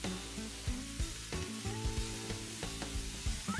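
Kimchi fried rice, with cooked rice and soy sauce, sizzles steadily in a hot pan while a spatula scrapes and taps against the pan at an irregular rhythm.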